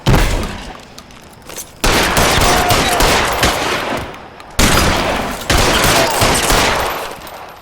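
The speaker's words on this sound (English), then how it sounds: "You're shooting at the wall" Gunfire in the video game L.A. Noire: sustained bursts of rapid shots and heavy fusillades come in long loud volleys, separated by brief lulls and sudden new barrages.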